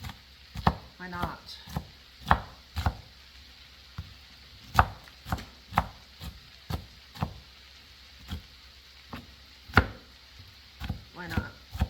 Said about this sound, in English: if you like them really small, then chop away